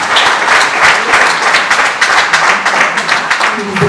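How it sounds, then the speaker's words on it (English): Audience applause at a book launch event in Mumbai, a dense, steady burst of many hands clapping close by that holds for about four seconds. "Please give him a big round of applause."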